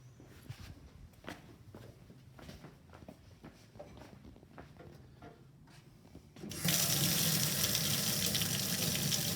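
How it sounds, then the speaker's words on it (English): Tap water suddenly gushes into a sink as a steady loud rush, after several seconds of quiet shuffling footsteps and small handling noises, while checking a Razor E200 scooter rear tyre for a puncture. "A little bit of water in the sink"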